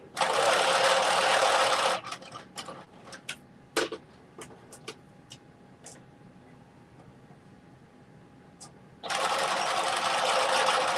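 A sewing machine stitches a mitten pattern piece in two loud, steady whirring runs, one at the start and one at the end, with a quieter middle stretch of faint clicks and handling sounds.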